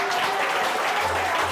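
A church congregation applauds in acclamation during a worship service, a short, even burst of many hands clapping at close range with no speech over it.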